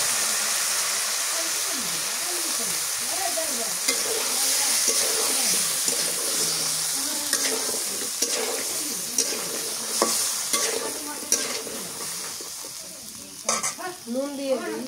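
Potatoes and beans frying in a pan over a clay stove, sizzling steadily and loudly up close, with scraping stirs and occasional splutters throughout.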